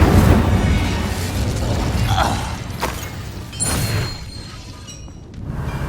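Incendio fire spell cast in the video game Hogwarts Legacy, a loud whooshing blast with crackling bursts and mechanical clatter, sustained and dense across the clip.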